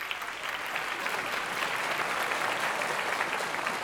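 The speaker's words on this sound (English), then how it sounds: "Let's give them a round of applause." An audience at a multiple sclerosis symposium applauds for the event's sponsors, a dense, even spell of clapping from a crowd, moderately distant and sustained throughout.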